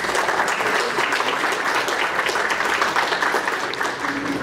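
An audience at a folk art exhibition event claps in a loud, steady round of applause, many hands together, holding throughout and tapering only slightly at the end.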